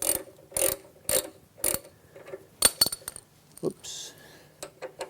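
A hand tool tightens a bolt while mounting a Segway kickstand, giving a series of close, crisp ratcheting clicks in short bursts with brief pauses between them and a few metallic knocks.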